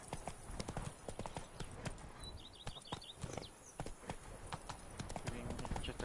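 Rhythmic hoofbeats of a horse galloping in The Witcher 3 video game, a steady clip-clop running throughout at close range, with a brief whinny-like call midway and faint talk in the background.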